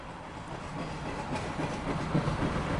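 An empty Norfolk Southern trash train rolls past close by, its cars giving a steady rumbling clatter of wheels on rail that holds at an even, fairly loud level throughout.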